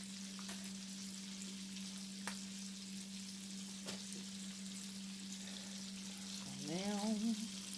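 Onions sizzle and fry steadily in a pan throughout, a constant near hiss with faint clinks, and a brief rising tone near the end.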